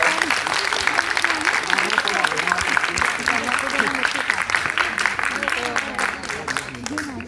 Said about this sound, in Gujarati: માનસીબેન અને કેતનભાઈ માટે જોરદાર તાળી થઈ જાય.